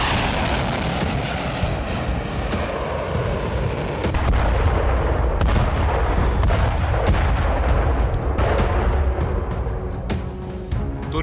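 Footage of a Turkish airstrike on Kurdish areas in Syria and Iraq carries dense, continuous blasts and heavy gunfire, loud and rumbling, with deeper thuds building midway and no voices.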